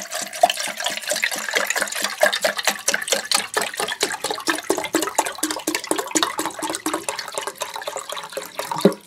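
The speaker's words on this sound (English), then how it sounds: "I'm going to fill my cup with water, my pot." Water runs from a kitchen tap into a cooking pot, a steady splashing stream with bursts of sputtering that carries on for several seconds, close and fairly loud with nobody talking.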